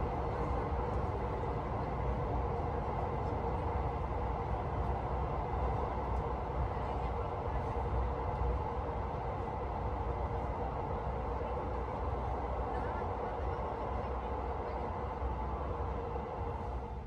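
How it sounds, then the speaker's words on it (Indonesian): KA Progo economy class train running between Yogyakarta and Jakarta, a steady low rumble and rattle of rail travel heard from inside the carriage, constant throughout with no clear voices. "Seperti inilah untuk kereta api Progo di kelas ekonomi."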